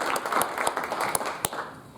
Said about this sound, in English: So I would like to give them a round of applause.